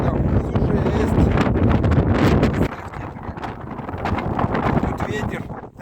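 Strong wind buffets the microphone in loud gusts that ease off partway on a cliff-top cape in the Kazakh steppes, with a voice faintly mixed in.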